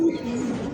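A black lakha pigeon, a female, gives a short low coo close by, a brief steady murmur with no talk over it.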